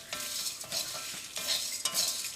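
Spices, toor dal and other lentils with asafoetida dry-roasting in a pan for Kerala sambar, stirred with a steady scraping rhythm and faint sizzle, close and moderately quiet with no talking.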